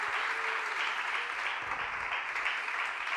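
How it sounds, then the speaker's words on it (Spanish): Church congregation applauding the Lord during a sermon: a steady, even wash of many hands clapping, moderately loud and sustained without pauses, with no voice clearly on top. "Dele fuerte el aplauso al Señor."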